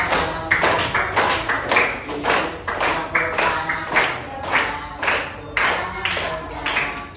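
A group of children and a teacher in a classroom clapping hands together in time with a sung children's song, sharp rhythmic claps in steady beats under the singing voices.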